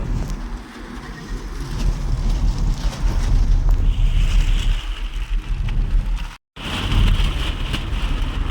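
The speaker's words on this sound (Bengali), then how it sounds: "কি হাওয়াতে কি অবস্থা দেখ, মনে হচ্ছে সেই জলের ঢেউয়ের মতো লাগছে প্লাস্টিকটা" Strong wind whips a plastic sheet on top of a moving vehicle, giving a loud, continuous rushing roar with fluttering buffets that cut out for an instant before returning just as hard.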